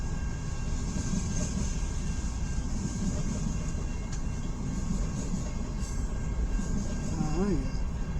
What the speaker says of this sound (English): Holy crap. That's a long train.